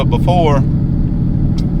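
A coyote-powered 2016 Mustang GT with a T56 Magnum XL swap and Pypes X-Bomb catback exhaust cruising at steady RPM, giving a low continuous engine drone and rumble while someone speaks briefly at the start.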